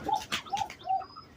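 A single pigeon gives three short cooing notes in a quick, close series, fairly clear against a quiet background.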